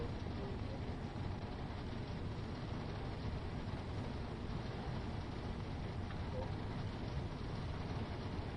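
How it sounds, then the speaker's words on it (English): Heavy rain pours steadily in the Train Sim World 6 train simulator on the East Coastway route, a dense, even hiss that stays constant throughout with no voices. "I selected a nice time of the year and it's actually pouring rain, isn't it?"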